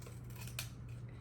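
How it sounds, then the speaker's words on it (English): Scissors snipping through ribbon while making a patriotic 4th of July wreath bow, a single crisp close cut over a low steady hum. "And now we're going to cut."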